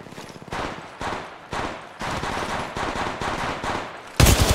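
Rapid automatic gunfire in Apex Legends Mobile, a steady rattle of close shots in several bursts with short gaps, ending in a louder sharp blast.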